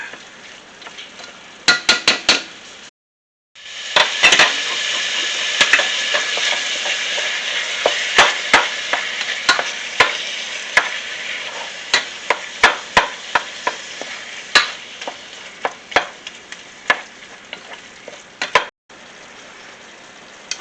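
Ground beef browning in a pan for sopita, a continuous close sizzle broken by many sharp scrapes and taps of a utensil against the pan, with a brief lull near the start and another near the end.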